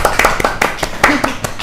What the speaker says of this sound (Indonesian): Tepuk tangan dong buat Bang Jer